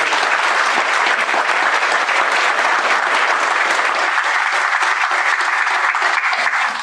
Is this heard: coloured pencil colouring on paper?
no